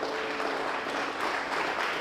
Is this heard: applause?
yes